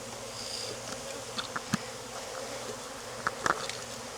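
Honey bees hum steadily around an open hive frame during a hive inspection, a dense, close buzz with a few brief louder passes of individual bees.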